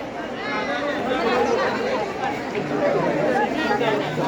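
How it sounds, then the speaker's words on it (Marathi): Dense crowd chatter fills the grounds of Jotiba temple, a steady babble of many overlapping voices close around, with no single voice standing out. "हो गर्दी आहे ते बघ ना."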